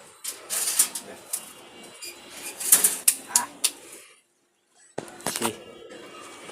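A released dove flaps its wings in rapid, loud bursts close by, then a short silence, then a few more flaps.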